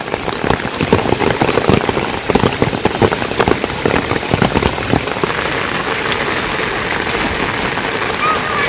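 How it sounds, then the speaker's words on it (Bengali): Heavy rain pours down in a Bangladeshi village during the rainy season, a loud, dense, continuous hiss of drops drumming on surfaces close by, with no pause throughout. "তো জোরসে বৃষ্টি হইতেছে"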